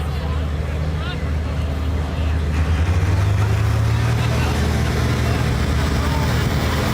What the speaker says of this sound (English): And Bryce Cullen, his tractor called Dr. Dirt, is coming up.